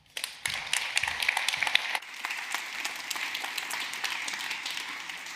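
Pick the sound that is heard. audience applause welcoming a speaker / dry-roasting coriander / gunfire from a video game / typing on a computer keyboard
audience applause welcoming a speaker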